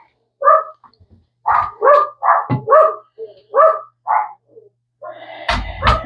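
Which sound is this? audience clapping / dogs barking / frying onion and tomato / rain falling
dogs barking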